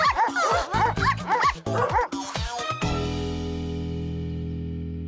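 A cartoon dog barks and yips in a rapid run of short, bright bursts close by, then falls quiet as a sustained ringing tone fades out.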